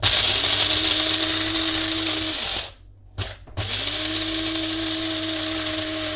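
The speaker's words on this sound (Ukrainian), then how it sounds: "Мелимо гарненько, тому що заварювати будемо прямо у горнятку." Electric grinder milling coffee beans fine for brewing right in a cup: a loud, steady motor whir that cuts off briefly, gives a short burst, then spins up again and runs on, close with no talk.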